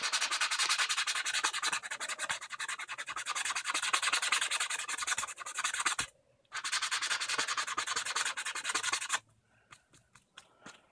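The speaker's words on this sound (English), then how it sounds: "I'm going to start sanding out the seams as much as possible" Steady rasping sanding of plastic seams on a toy gun prop, rapid back-and-forth strokes close up, broken by a brief pause near the middle and ending in a few lighter scrapes.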